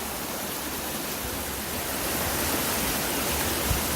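River water flowing, a steady broadband rush heard close by and alone, growing slightly louder partway through.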